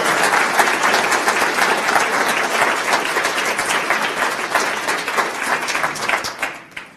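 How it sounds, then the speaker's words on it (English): Lecture audience breaking into loud, sustained applause, dense clapping close and steady for several seconds before tapering off at the end. "Let's give a great round of applause"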